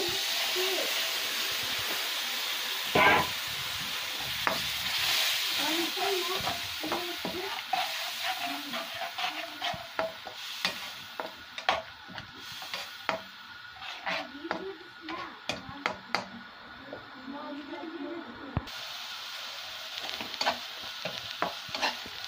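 Spice paste of coriander, cumin and salt loosened with a splash of water sizzles in a pan for a Bengali hilsa fish curry, a soft steady hiss broken by repeated scraping and tapping of a stirring spoon.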